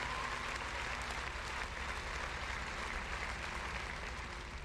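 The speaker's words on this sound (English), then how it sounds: "Clap it up, y'all." Steady applause sound during a Starfield gaming stream, a dense, even wash of clapping that holds at a constant level throughout with no voices over it.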